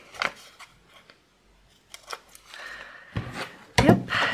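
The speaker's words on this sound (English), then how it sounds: "And then cut those off." Scissors snip through paper for a vintage travel junk journal, with several short, crisp cuts and rustles spaced irregularly, near and fairly quiet.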